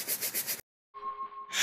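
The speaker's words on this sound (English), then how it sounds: "now we're just going to take it and rub it up against the bottom" A brush scrubs the sole of a 1998 OG Air Jordan Flint XIII sneaker during cleaning, giving quick rhythmic rasping strokes close by. The strokes stop abruptly, then a quieter scratchy sound with a steady thin tone follows.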